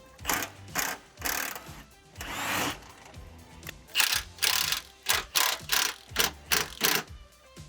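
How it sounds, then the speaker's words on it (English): Ratchet wrench loosening bolts on a Volvo 850 subframe, heard close up as bursts of rapid clicking pawl strokes that settle into a steady rhythm of eight or so short pulls near the end, with no talking. "Get your wrench ready."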